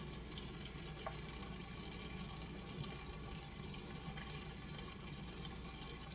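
Water runs steadily from a kitchen tap into a sink, a constant close hiss and splash with faint drips, no voices.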